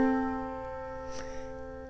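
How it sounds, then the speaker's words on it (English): A held major sixth interval of two sustained pitched notes rings steadily for about two seconds, gradually decaying, heard alone without speech. "a major sixth sounds like this."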